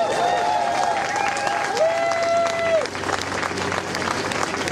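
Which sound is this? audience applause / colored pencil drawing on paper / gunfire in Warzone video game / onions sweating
audience applause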